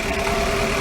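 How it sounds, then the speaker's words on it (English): A 2018 Chevy Equinox engine idling rough with misfiring cylinders on 1 and 3, a close, steady hum with an uneven knock, and no talking. "It came in because the check engine light's on and it's running rough."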